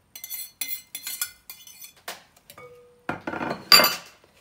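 Melted butter, sugar and a pinch of salt are mixed in a bowl: a run of sharp metallic clinks and scrapes of a utensil against the dish, coming in short bursts with quiet gaps between.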